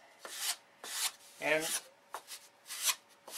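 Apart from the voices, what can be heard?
sanding a radius with a small sanding block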